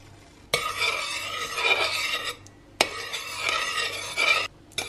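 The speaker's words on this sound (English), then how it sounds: "The last of the butter is just melting in over there, and just keep stirring it until it just comes up to simmering point." Butter melting in a pan on the stove while a utensil stirs it, two long scraping, rasping strokes across the pan bottom, each starting abruptly and running about two seconds, close and fairly loud.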